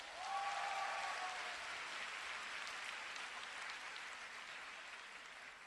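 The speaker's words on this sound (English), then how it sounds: "Give yourself a big round of applause." A convention audience claps loudly in sustained applause that swells quickly at the start and then slowly tapers off, heard from within the hall.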